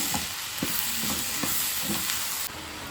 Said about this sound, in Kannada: ಚೆನ್ನಾಗಿ ಮಿಕ್ಸ್ ಮಾಡಿಕೊಂಡು ಟೊಮೆಟೊ ಮೆತ್ತಗೆ ಹಾಕಬೇಕು.